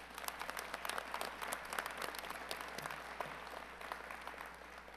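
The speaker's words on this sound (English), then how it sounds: "Let's give Dan another round of applause." A crowd at a college commencement applauds steadily, a dense wash of many hands clapping at moderate volume with no voices standing out.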